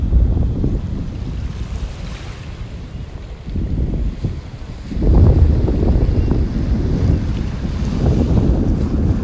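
Gulf surf washes onto a beach in North Naples, Florida, early in the morning. Low, continuous rumbling waves come in surges under loud gusts of wind buffeting the microphone, and no one speaks.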